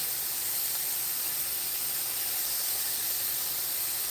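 Shrimp sauté in a single layer in a hot pan, a steady, loud sizzling hiss that keeps going evenly with no pauses.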